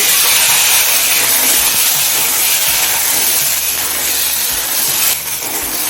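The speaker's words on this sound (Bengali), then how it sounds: "এখন এই তেলে দুশো গ্রাম পরিমাণ গাছি থেকে ভেজে নিচ্ছি" About two hundred grams of peeled taro stems (gatikochu), cut into long strips, fry in oil, giving a loud, steady, close hiss that runs unbroken throughout.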